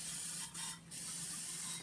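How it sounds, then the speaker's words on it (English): Cooking spray hisses onto a muffin pan in short close bursts, a steady aerosol spray with a brief pause in the middle. "I'm going to take my muffin pan, and I'm going to spray it also so that the eggs do not stick in there."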